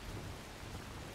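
Rain pours in the Soulmask survival game, a dense, faint, continuous wash of steady downpour with no other sounds.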